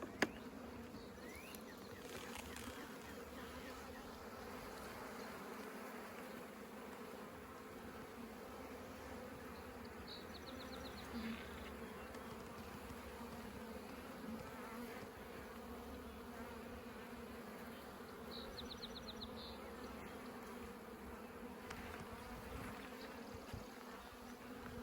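A honeybee colony in a top bar hive during a spring inspection, a constant, soft, steady buzzing hum of many bees close by, with a few faint rustles and no talk.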